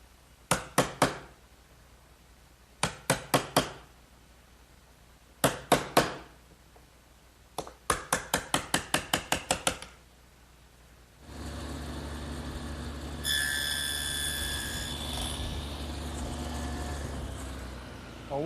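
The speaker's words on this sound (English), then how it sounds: "All the rabbets and dados that we've made have to be chiseled out so that they're square. And I'll just do that with an ordinary chisel." A chisel, struck by a mallet, squares the corners of rabbets and dados cut in wood for a chest of drawers, landing in quick bursts of sharp knocks. Steady machine noise follows, likely a table saw fitted with a dado set.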